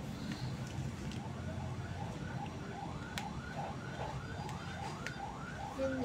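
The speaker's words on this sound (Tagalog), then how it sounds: "narinig niyo yun guys, ambulance yun." An ambulance siren wails in a repeating rising-falling pattern at moderate distance under steady background noise, with a few sharp knocks nearby and some faint talk.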